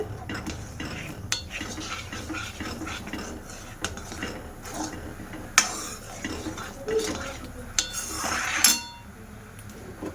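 A spoon stirs roasted spice powder into aam panna, clinking and scraping against a glass or bowl in irregular taps, with a louder rattling burst near the end.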